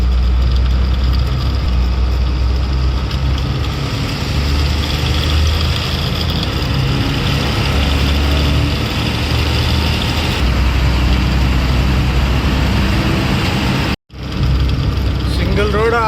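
Truck engine laboring up a single-lane hill road in the Telangana hills, a continuous loud low drone with road rumble throughout, briefly cutting out near the end, with someone talking over it.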